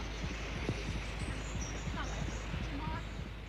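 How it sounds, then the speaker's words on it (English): A faint, rapid heartbeat of a sitting fairy tern thumps through a close microphone under its egg, under a steady hum, with soft bird-like chirps drifting in the background. "He put a tiny microphone under the egg of a sitting tern to listen to its heartbeat."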